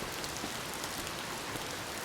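Rain falls steadily in the Cattails video game, a soft, even hiss of drops on surfaces with no other sound.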